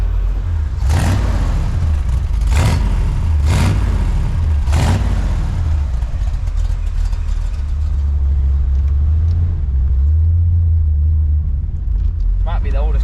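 A classic Corvette engine runs with a steady low rumble that swells slightly, with several sharp louder bursts early on; voices can be heard over it.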